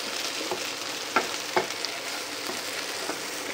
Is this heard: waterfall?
no